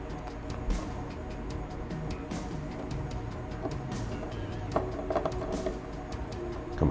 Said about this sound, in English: let's screw on the antenna system.